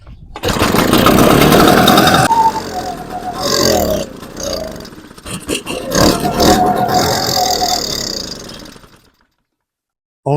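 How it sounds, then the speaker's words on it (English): Echo PB-755ST backpack leaf blower with a faulty carburetor, its engine revving loud and close then sagging and surging unevenly as it bogs down, before cutting out into near silence at the end. "It just refuses to run at high throttle. Bogs down at just quarter throttle."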